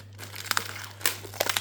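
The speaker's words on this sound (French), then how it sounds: "Je vais passer du scotch. Alors, je vais mettre mon scotch là" Sticky tape pulled and pressed over a toilet bowl, giving crinkly, crackling bursts in short clusters with quiet gaps between, close up and fairly soft.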